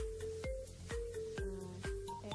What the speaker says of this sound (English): If you want to apply this notification sound